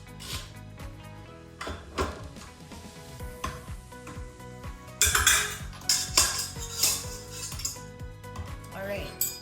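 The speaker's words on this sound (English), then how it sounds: "it comes with your standard dough hook, this paddle beater, and this wire whisk" Metal KitchenAid stand mixer attachments, a dough hook, paddle beater and wire whisk, clink and clatter as they are handled, with repeated close metallic knocks and jingles growing busier toward the end.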